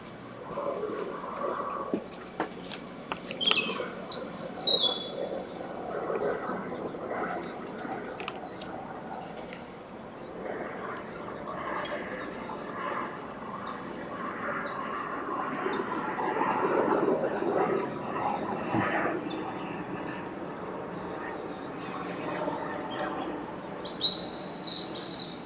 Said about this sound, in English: I love hearing birds laugh.